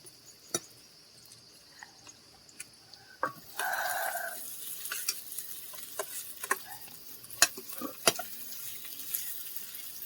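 Onion, chili, garlic and green tomato sizzle in a pan, a steady frying hiss that swells partway through, with scattered sharp ticks and stirring clinks and no talking.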